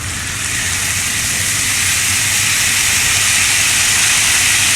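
Steady, loud hiss of chicken fat sizzling in a hot pan, continuous and close with no voices.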